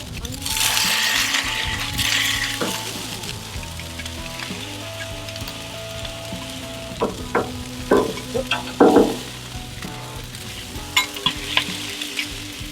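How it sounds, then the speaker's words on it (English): Ground chuck burger sliders sizzle and fry on a Blackstone griddle as they are smashed thin, a steady crackling hiss punctuated by metallic spatula scrapes and clinks, with a voice speaking over it at times. "You should hear that good sizzle."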